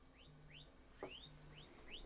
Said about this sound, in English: so you can actually hear like a little chirping sound